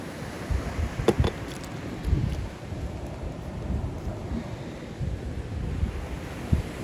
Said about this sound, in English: It's very loud here on the ocean